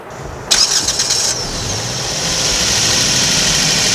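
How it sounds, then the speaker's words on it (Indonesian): A 2014 Toyota Yaris TRD Sportivo engine cranks and catches with a loud burst of a little over a second, then settles into a steady, even idle that continues alone, close to the microphone. "dia masih pakai mesin khasnya Yaris yang meraung-meraung tapi kurang jelas"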